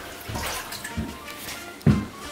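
A toilet flushing and refilling, with a steady rush of water and a sharp gurgling surge near the end, close by and moderately loud.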